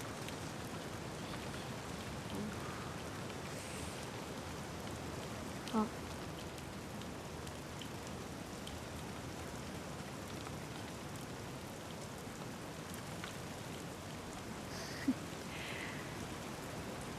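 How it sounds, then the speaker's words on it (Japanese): Steady rain falls in a continuous, even hiss, faint and unbroken, with no voices and only a couple of tiny clicks. "雨か。"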